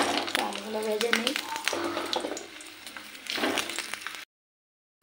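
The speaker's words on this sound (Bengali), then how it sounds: "ভাজা আলুগুলো তেলের মধ্যে দিয়ে দিচ্ছি, তো আলুগুলো ভেজে নিই" Potatoes frying in hot oil in a home kitchen, a steady broadband sizzle running for about four seconds with a voice speaking over it, then cutting off to silence.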